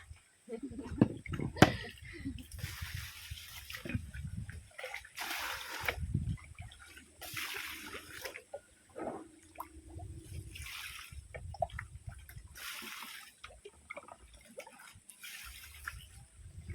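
Water splashes and sloshes in irregular bursts as clothes are washed by hand outdoors in a rural province, the wet slaps and drips coming close and moderately loud.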